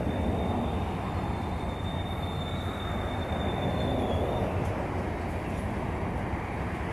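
The Amtrak California Zephyr No. 5, a westbound passenger train, rumbles past at Roseville, California, with a dense, continuous roar of wheels and a thin metallic squeal running through the first part of the pass.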